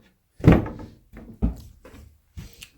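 A heavy kitchen cabinet door in a tiny house build swings shut with a loud close thud, followed by a few softer knocks and rattles as it settles, up close with no talk.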